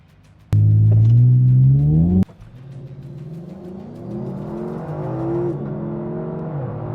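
A 2023 Lexus LC500 and an Infiniti Q60 Red Sport launch in a drag race: an engine roars and climbs sharply in pitch, cuts at a gear shift, then keeps pulling with a rising, steady drone as the cars accelerate.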